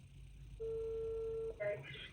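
A telephone dials a call, a steady tone of about a second followed by a short higher beep, heard close and alone over faint room background.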